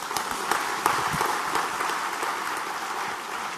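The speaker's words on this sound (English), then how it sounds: "Let's give them another round of applause, please." An audience applauding after speakers at a Buddhist conference session, a dense, steady wash of many hands clapping in a large hall, sustained throughout at fairly even loudness.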